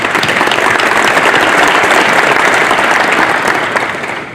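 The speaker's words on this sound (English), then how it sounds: "Let's give them a round of applause." Loud, close audience applause at a 2018 athletic hall of fame and alumnus of the year ceremony, a full, steady round of clapping for foundation board members that fades slightly at the end.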